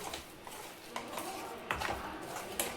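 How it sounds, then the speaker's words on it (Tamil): Green herbal medicine paste for new mothers being stirred in a pan, with soft scraping and light metallic clinks of the spoon against the pan at an uneven pace, close and fairly quiet. "இப்போ இதை நம்ம நல்லா கிண்டணும்"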